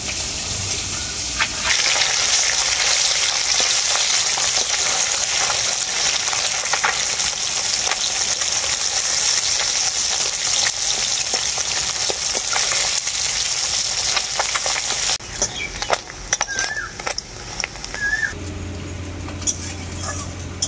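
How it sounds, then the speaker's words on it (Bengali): Puti fish fry in mustard oil in a small batch with a steady, loud sizzle and crackle, then a piece is turned over. Near the end, utensil clinks and shifting noises break the frying sound. "আমি কম কম করে মাছগুলোকে ভেজে নেব।"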